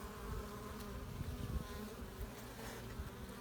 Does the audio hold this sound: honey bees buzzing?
yes